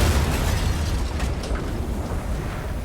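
A grenade launcher explosion in the mech combat game Daemon X Machina, a loud sustained rumbling blast with scattered crackling debris that slowly fades, heard alone without talk.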